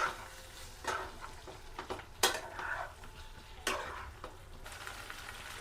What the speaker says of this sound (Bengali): মাংস থেকে জল ছেড়ে দিয়েছে, তো ভালো করে এবার কষে নিই।